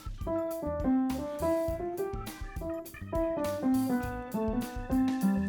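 Piano playing a smooth, flowing passage with steady rhythm and clear harmonies, close and moderately loud, with no one talking.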